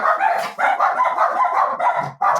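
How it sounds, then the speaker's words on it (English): A small dog barking indoors, a quick series of sharp close yaps in uneven rhythm that interrupt a conversation, loud and clear with no talking over them. "We love that little dog interruption."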